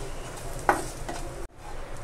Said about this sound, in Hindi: इसे मिक्स कर लेंगे और इसे 2 मिनट के लिए सॉटे कर लेते हैं।